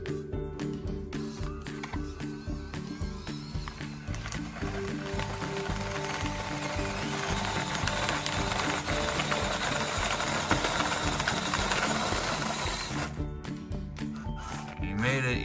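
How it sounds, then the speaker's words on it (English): A small WPL C-24 RC crawler truck fitted with Hot Wheels monster truck tires whines steadily through its electric motor and gears throughout, loud and close, with faint rattles as it crawls. "we're gonna test the crawler capability of these Hot Wheel tires."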